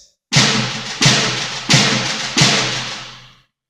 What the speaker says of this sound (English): The paradiddle, or paradiddle, sounds like this.